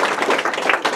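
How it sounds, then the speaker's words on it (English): An audience at a roast breaks into a brief burst of applause, dense overlapping claps at moderate loudness. "I'm going to give her a round of applause."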